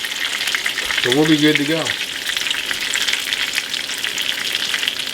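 Shrimp fry and brown in a hot pan with a steady, loud, crackling sizzle that continues throughout, while someone speaks briefly over it.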